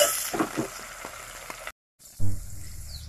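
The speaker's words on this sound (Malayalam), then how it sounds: "ഉള്ളി നല്ലോണം ഒന്ന് വഴകട്ടെ." Onions sauté in hot oil with a close crackling sizzle and a few clinks, then a short silent gap before a louder burst of frying hiss.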